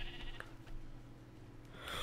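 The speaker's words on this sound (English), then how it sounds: "Oh my god, these stupid sheep." Sheep bleating in the Minecraft video game, a short faint bleat early on, then quiet game background with a brighter rustle at the end.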